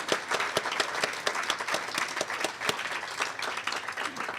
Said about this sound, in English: I love a round of applause.